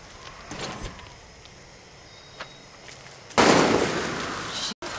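Gunshots in Far Cry 6, a few distant pops early on followed by a louder rushing burst near the end, with no talking.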